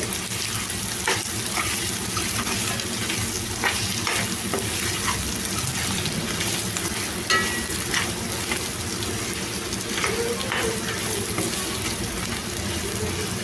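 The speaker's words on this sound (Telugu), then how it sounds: "ఇప్పుడు దీంట్లో సొరకాయ ముక్కలు వేసుకోవాలి సొరకాయ ముక్కలు వేసుకున్న తర్వాత ఇదంతా చక్కగా కలిసేలాగా కలిపేసుకోవాలి" Bottle gourd pieces sizzle and fry in hot oil while being stirred, a steady close crackle with scraping strokes throughout and no talking.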